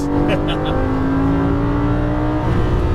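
A Lamborghini Gallardo accelerating on a Las Vegas track, its engine a loud close steady drone held throughout, with a voice briefly heard over it.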